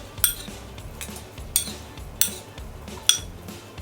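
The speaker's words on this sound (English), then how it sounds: "Start with some pepper, a little bit of salt, and I'm gonna give it a quick mix." A spoon clinks against a bowl several times while mashed avocado is mixed with salt and pepper, sharp regular taps over a soft stirring background.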